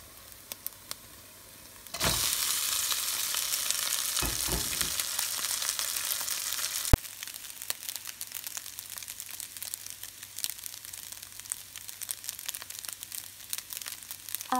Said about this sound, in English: add a little bit of oil and put back half of the browned garlic, add in the rice, and mix them up together